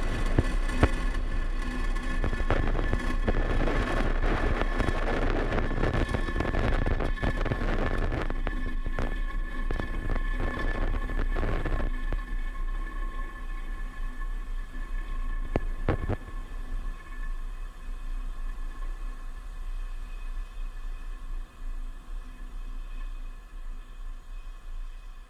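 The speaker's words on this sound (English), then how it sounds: "engines full power, and liftoff of Space Coast Agency 0B." SpaceX Falcon 9 rocket engines roaring after liftoff, carrying 13 satellites for the US Space Force, a broad crackling rumble that is loud at first and gradually fades and thins over about twenty-five seconds.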